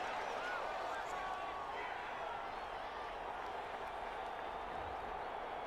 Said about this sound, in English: Crowd doesn't like it.